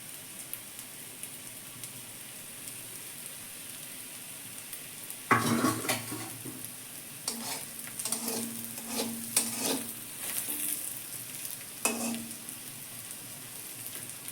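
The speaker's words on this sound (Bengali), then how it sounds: "পেঁয়াজটা আমি বেশি লাল করে ভাজবো না এরকম হালকা হালকাই ভাজবো" Onion sizzles gently in a pan for a drumstick-leaf mash, a faint low hiss at first, then several sharp bursts of spattering and stirring scrapes that come and go.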